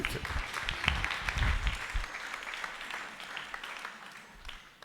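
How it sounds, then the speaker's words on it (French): An audience at a church service applauds, a burst of clapping that is strongest at first and then thins and fades over several seconds. "Acclamons pour lui."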